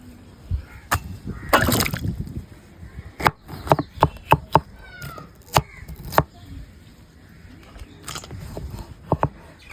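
Knife chopping vegetables on a board for a village-style chicken satay, sharp irregular chops in short bursts with pauses, close and fairly loud, no talking.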